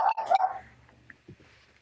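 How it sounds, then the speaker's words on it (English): A dog barks sharply two or three times up close, followed by a few softer yips and whimpers. "Now's not the time to bark."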